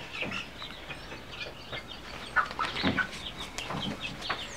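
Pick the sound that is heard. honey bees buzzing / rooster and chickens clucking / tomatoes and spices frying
rooster and chickens clucking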